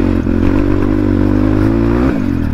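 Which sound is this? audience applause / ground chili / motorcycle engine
motorcycle engine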